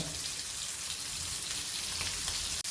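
Small pieces of fish fry in hot oil, a dense continuous sizzle and crackle heard close up with no talking.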